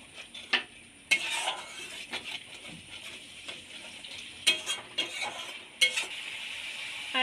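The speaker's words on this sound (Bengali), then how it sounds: "এক চামচ মতো কেশরি মেথি দিয়ে দেব দিয়ে নেড়ে নেব" A spoon stirs dried fenugreek leaves into a thick taro curry in a pan, making repeated scraping strokes and metallic clinks over a soft, continuous sizzle, close and fairly quiet.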